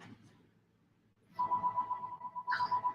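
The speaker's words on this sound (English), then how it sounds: "Now the phone is ringing." A steady electronic ringtone tone begins partway through and continues, fairly close and clear, after a quiet stretch with faint background murmur.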